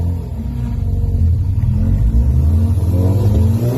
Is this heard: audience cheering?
no